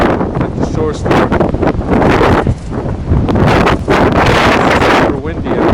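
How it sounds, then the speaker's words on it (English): Strong wind at the Jersey Shore buffets the microphone with a loud, continuous roaring rush, with brief dips between gusts. "Super windy out there."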